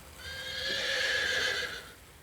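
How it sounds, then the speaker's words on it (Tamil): A single horse whinnies loudly and nearby, a drawn-out quavering neigh lasting about a second and a half, with no talking. "குதிரை சத்தம்"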